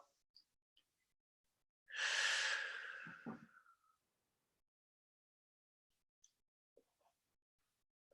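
A single deep breath during a power vinyasa yoga class, a long airy exhale lasting about two seconds that trails off into a soft breathy tail, heard alone against near silence with faint scattered small sounds.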